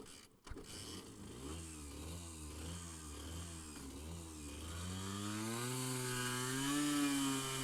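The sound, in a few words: Honda NSR 50 motorcycle at full throttle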